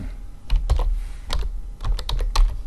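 Keys on a computer keyboard are struck in short, uneven bursts of crisp clicks, close up and clear with no talking.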